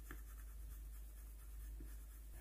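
Soft, rhythmic scratching of a watercolor pencil shading lily petals on paper, faint and steady with light repeated strokes over low background hum.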